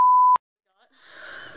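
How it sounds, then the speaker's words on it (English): A censor bleep runs as a loud, steady electronic tone for about a third of a second and then cuts off abruptly, leaving quiet before faint background noise rises. "I'm gonna beep it out."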